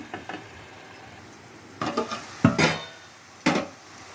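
A pot of tomato and coriander paste for fish curry being covered and handled, with a few sharp metallic clinks and knocks of the lid and utensils over a soft frying sizzle.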